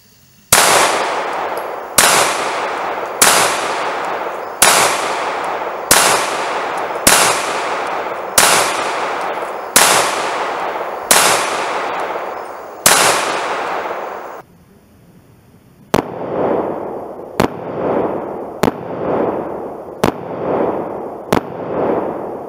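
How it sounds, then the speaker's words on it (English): Ten loud Sig Sauer P229 pistol shots fired on a shooting range, each a sharp crack with a decaying tail, spaced roughly a second and a half apart, followed after a brief pause by more fainter, quicker shots. "we're going to put 10 more shots down range"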